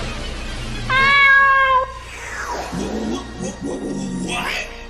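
A Wind Up Kitten toy card gives a loud, clear meow lasting about a second, after which people talk excitedly over some background noise.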